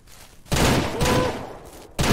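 Gunfire in the Ranch Simulator video game comes as loud, close bursts of shots, a couple of sustained volleys with a short gap between them and no voices.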